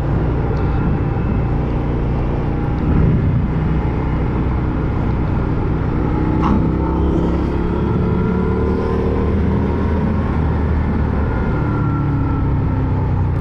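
Motorcycle engine while riding through Patagonia, a loud continuous rumbling drone with wind roar, steady throughout with slight shifts in pitch as the throttle changes.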